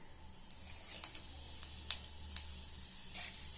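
White cumin seeds drop into hot melted ghee in a wok, giving a faint steady sizzle broken by a handful of sharp little crackles and pops, quiet and close.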